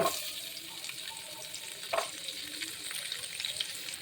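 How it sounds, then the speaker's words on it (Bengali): Onions sizzle and crackle steadily in hot oil, close up, with a brief stirring clatter partway through. "এবার দিয়ে দেবো পেঁয়াজ"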